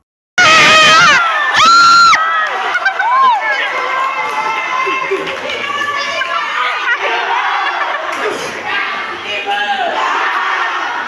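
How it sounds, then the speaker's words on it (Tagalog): Students and a teacher shout and cheer in support at a school district sports meet, a loud, dense crowd of overlapping young voices with sharp screams in the first two seconds, then sustained excited yelling throughout. "dinig na dinig yung mga sigaw ng mga fellow students na sumusuport sa kanya, pati nga guro ay sumisigaw"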